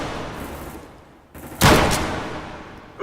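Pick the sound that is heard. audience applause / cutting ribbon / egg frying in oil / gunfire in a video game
gunfire in a video game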